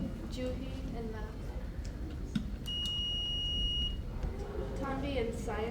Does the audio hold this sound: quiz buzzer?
yes